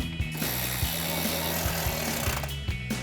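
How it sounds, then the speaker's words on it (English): A hand ratchet and socket click rapidly in short, even bursts while tightening T15 screws into a truck's plastic fender liner, close and clear with no talking. "Grab our ratchet and socket and tighten those down."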